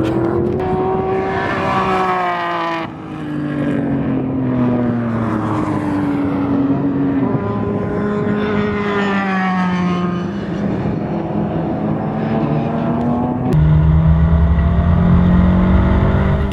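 A Toyota MR2 laps the Chuckwalla race track, its engine droning loud and continuous from inside the car, pitch climbing and dropping through gear changes, with a sharp jump in intensity near the end.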